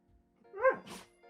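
One sneeze in a quiet room: a short voiced intake, then a sharp breathy burst.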